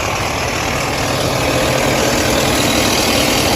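A Ford F750 work truck's 6.7L Powerstroke diesel engine idles steadily nearby, a continuous low rumble with a constant hum and no talk over it.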